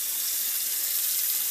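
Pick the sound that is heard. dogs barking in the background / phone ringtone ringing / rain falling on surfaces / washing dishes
washing dishes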